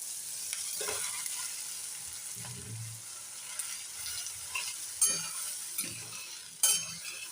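Poha with cooked tomato and potato is sautéed in a pan, producing a soft continuous sizzle with intermittent scraping stirs and a couple of sharper clinks of a spoon on metal.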